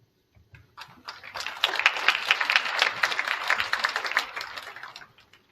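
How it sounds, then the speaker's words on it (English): Thin audience applause at a high school scholarship night, scattered clapping building quickly, holding steady for a few seconds, then trailing off, heard from a distance. "the applause just gets weaker and weaker the more times I have"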